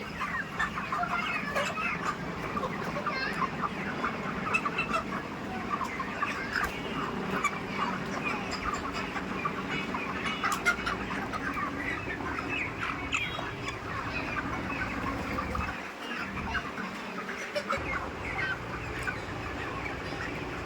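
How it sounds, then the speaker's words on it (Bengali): Chickens on a poultry farm cluck and chatter continuously while eating feed, a dense mid-distance flock sound with fan noise and breezy air underneath, no talk. "তো মুরগিগুলো দানা ছানা খাচ্ছে ভালো করে"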